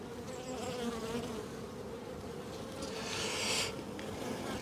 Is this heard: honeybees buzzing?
yes